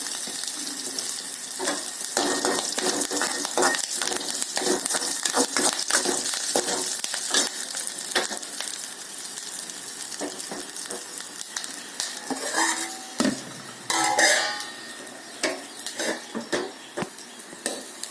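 Green chillies and curry leaves frying in tempering oil for a Tamil New Year mango pachadi, a continuous crackling sizzle with frequent spatula clinks and scrapes against the pan, close and fairly loud throughout.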